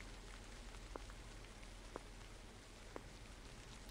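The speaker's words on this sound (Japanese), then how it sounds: "あ、また雨降ってきたな。" Rain falls steadily in the horror video game Tsugunohi, a soft even hiss with a few faint drip taps at regular intervals, quiet and without talk.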